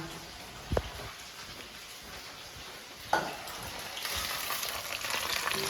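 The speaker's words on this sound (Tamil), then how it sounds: "இப்போ நம்ம வந்து சிக்கனை வந்து பொறிச்சு எடுத்துடலாம்" Chicken pieces fry in a pan with a steady hiss and crackle, punctuated by a couple of sharp clinks, the sizzle brightening toward the end.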